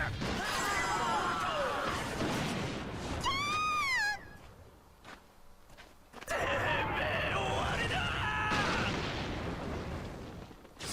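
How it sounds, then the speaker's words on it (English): A brick slams into a fighter in the JoJo's All Star Battle fighting game, a loud crashing hit among swooping, whistling effects and game music, followed by a quieter lull before the busy battle sound returns. "Smashed him with a brick."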